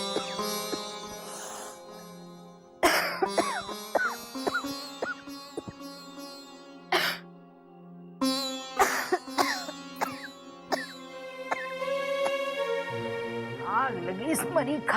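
A woman coughs repeatedly in short harsh bursts amid ongoing dialogue, with voices talking around and between the coughs in an indoor household scene.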